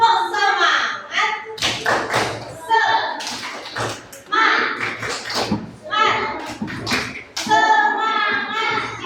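A first-grade class of children in a classroom performs a rhythmic spirit clap, bursts of patterned claps and thumps alternating with children's and a teacher's chanting voices throughout.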